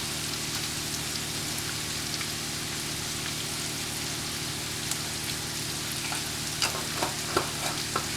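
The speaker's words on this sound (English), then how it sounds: "we're going to cook that for about 2 minutes to cook off the raw spices" Taco seasoning and garlic pepper fry in a hot pan with a steady, dense sizzle, and a few light utensil taps near the end.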